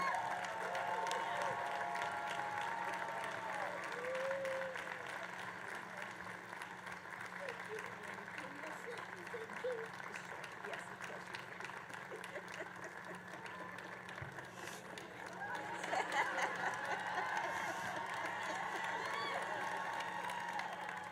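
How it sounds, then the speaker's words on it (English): A standing audience applauds Ms. Opal Lee at an outdoor Juneteenth concert on the White House South Lawn, a broad, distant wash of clapping and cheering sustained throughout, swelling slightly toward the end. "Can we please stand and applaud Ms. Opal Lee?"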